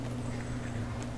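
Carriage horse hooves clip-clop at a steady walking pace over a constant low hum, moderately distant, with no speech.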